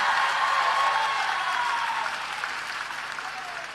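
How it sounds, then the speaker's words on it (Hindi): An audience at a direct selling gathering gives loud, sustained applause for Sanjeev, a dense wash of clapping that eases slightly as it goes on. "अगर है तो जोरदार ताली बजाओ एक बार संजीव भाई के लिए"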